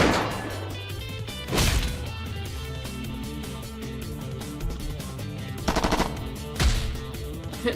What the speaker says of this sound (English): Try shooting at your target arms to paralyze them.